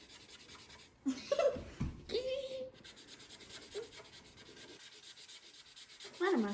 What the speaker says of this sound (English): Why do markers have to make that noise?